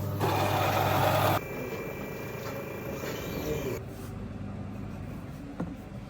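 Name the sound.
coffee vending machine preparing a latte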